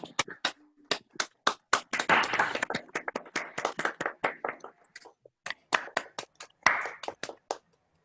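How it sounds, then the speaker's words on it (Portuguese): Several people clap their hands at the close of an online talk on everyday racism, with irregular sharp claps that swell into a brief burst of applause, then thin out to scattered single claps. "Eu queria que todos batessem palmas"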